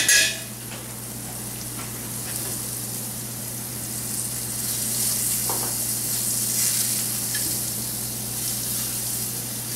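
Food sears in a hot pan on a restaurant-style stove, a loud, continuous close sizzle with a steady low hum beneath and occasional light clinks of utensils.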